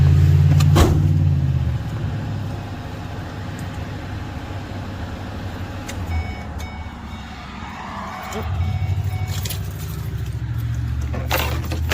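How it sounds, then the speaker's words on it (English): A set of car keys jangles in a few short, sharp bursts spread across the stretch, over the low rumble of a vehicle on an outing to an auto parts store for a new battery. "Grab these keys."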